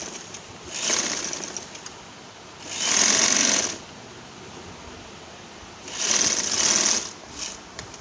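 A sewing machine stitches the fitting seam of a kurti, running in three separate bursts of steady mechanical whirring with quieter gaps between them. No one talks.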